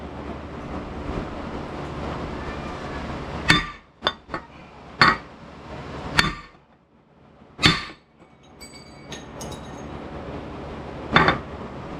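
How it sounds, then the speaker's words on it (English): A hammer repeatedly strikes a badly seized 1968 Mopar 440 V8 engine, producing several sharp, loud metallic bangs and clinks at irregular intervals over a low workshop background. "but my hammer broke"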